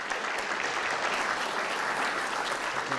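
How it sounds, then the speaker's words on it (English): Listeners at a talk on wills clap for attorney Michael, a steady wash of applause from a seated crowd that keeps a constant level throughout. "Let's give Michael another round of applause."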